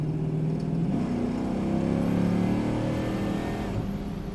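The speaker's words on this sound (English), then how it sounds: "And also the engine supplies plenty of power." Restomod 1967 Chevrolet Chevelle with a 400-horsepower engine pulls hard while driving, a steady, loud engine drone rising through the gears from inside the car, with no talking.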